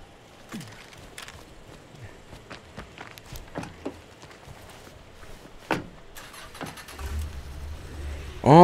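Car in State of Decay 2 gameplay, with thuds, clunks and footsteps around the vehicle, then an engine rumbling up loud at the end.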